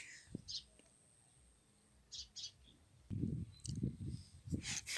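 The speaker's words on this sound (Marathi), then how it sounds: "चिमण्या उन्हात बसलाय" Short, bright sparrow chirps come in scattered bursts, alongside some low thumps and rustling nearby.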